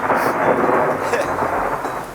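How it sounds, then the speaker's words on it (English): Thunder from a rain and lightning storm on a hillside rolls as a loud, sustained rumble over the steady hiss of falling rain, with no one speaking. "we're caught in a lightning storm too."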